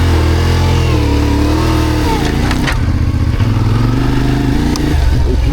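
Trail motorcycle engine runs loud and close, its low throb rising and falling in pitch as the throttle is worked, with brief clattering knocks in between.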